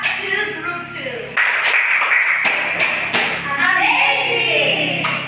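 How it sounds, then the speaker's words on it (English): A classroom group claps together for a student group after a presentation, a dense burst of hand claps starting partway in and continuing steadily to the end, with children's voices mixed in. "let's give an amazing clap to group 2"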